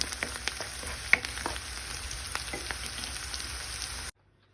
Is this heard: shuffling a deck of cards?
no